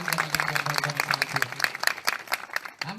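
An audience at a Tihar Deusi-Bhailo celebration gives powerful applause, dense, continuous clapping lasting about three seconds, fairly close, with brief voices at the start.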